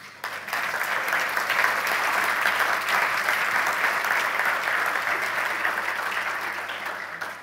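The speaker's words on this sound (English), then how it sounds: "Please give an applause for Benni Mack." A conference audience applauds a speaker at a TYPO3 CMS talk: dense, sustained clapping from a full room that swells quickly and holds steady before tapering slightly.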